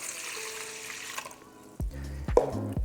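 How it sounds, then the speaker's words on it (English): Tap water poured into a measuring cup while making sourdough bread, a steady splashing run that cuts off and resumes with fuller gurgling pours, close and moderately loud with no talk. "So I'm gonna put the water in here."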